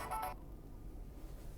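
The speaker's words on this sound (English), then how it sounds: "this sound is continuously played until I acknowledge this notification" An Android app notification alert plays a short repeating electronic tone for about a third of a second, then stops, leaving quiet room noise.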